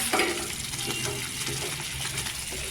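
One glass of water is poured into a pan of sprouted moth bean curry, a steady splashing rush with a soft bubbling sizzle underneath, close and continuous throughout.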